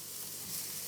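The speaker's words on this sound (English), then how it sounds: "you can hear it sizzling as it goes into the pan" Chunky pieces of chopped chorizo sizzling in a pan on a plug-in electric hob, a steady bright hiss lasting under a second with no voices.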